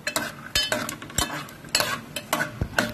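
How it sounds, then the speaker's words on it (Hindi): Peanuts frying for poha, with spoon stirring that gives irregular scraping clinks over a soft steady sizzle, close and without any speech. "मैंने यहाँ पे 3 चमची जो है सीम यहाँ पे डाली है मूंगफली, इसे हम थोड़ा सा फ्राई कर लेंगे"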